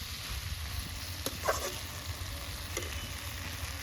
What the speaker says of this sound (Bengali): ভাজা আলুগুলো এর মধ্যে দিয়ে কষিয়ে নিচ্ছি।